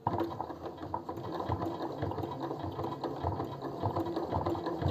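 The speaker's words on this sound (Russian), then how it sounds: "И вот так аккуратненько по всему периметру" Sewing machine stitching steadily around the edge of a fabric pencil-case pouch, a fast continuous mechanical whirr and tick, quiet and close, running unbroken for several seconds with no talk.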